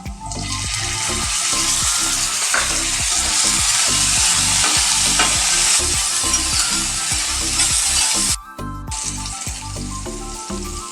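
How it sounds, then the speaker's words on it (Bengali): Garlic, ginger and beans fry in a hot pan with a loud, steady sizzle under constant clattering stirring. A brief dip near the end comes just before the frying picks up again. "আদা রসুনটা একটু ভেজে নিয়ে এবার দিয়ে দিচ্ছি বিনস।"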